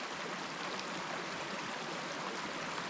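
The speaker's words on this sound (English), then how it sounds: "you get to listen to that babbling brook all night long" A babbling brook runs beside a wet backcountry camp on the Colorado Trail, a steady, even rush of flowing water close by with no other sounds.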